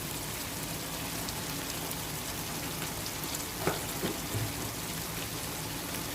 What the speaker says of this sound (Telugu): ఒకసారి తిప్పేసుకుంటున్నాను.